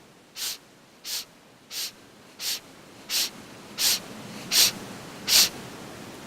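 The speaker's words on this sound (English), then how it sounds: "like that, and you sniff 10 times." Eight quick sniffs through the nose in a steady rhythm during a meditation breathing exercise, each a short airy hiss, close by and growing slightly louder toward the end.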